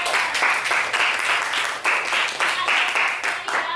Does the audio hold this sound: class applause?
yes